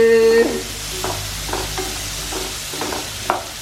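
Shallots sautéing in a pan for an Eid beef roast: a steady close sizzle with repeated scraping stir strokes roughly every half second, a louder clatter near the end, no voices.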